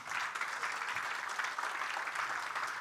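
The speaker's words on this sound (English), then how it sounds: "Big applause to them, please." Warm applause from a workshop audience for the event organisers, a steady wash of many hands clapping at moderate volume, fairly even throughout.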